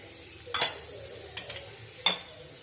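Onions sautéing in a pan with salt for a prawn fry, soft background sizzle broken by a few sharp scraping stirs of a spatula.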